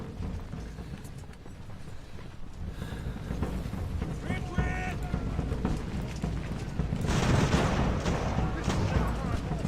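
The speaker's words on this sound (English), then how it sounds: "I could try if I can sink the ship with the cannon or attack it." Cannon fire from sailing warships in the naval game Ultimate Admiral: Age of Sail, a steady rumble of booming shots and battle noise running throughout, growing denser toward the end, with a voice talking over it.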